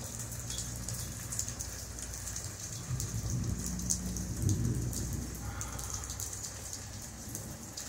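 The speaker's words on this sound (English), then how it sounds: "Sound of the rain on this roof." Steady rain drums on a porch roof, a dense continuous patter of drops that stays fairly even throughout with a low rumbling undertone, heard without any talking.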